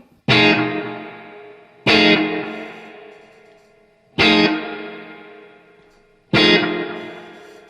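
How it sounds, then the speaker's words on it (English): Four loud guitar chords struck at steady intervals through a Boss DD-3 digital delay, each ringing out with a long, faint echoing tail that fades gradually before the next strum. "It's just a subtle, long delay with my analog delay."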